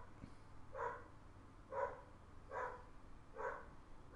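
A dog barking four times at a steady, spaced rhythm, moderately distant and faint over a low background hum.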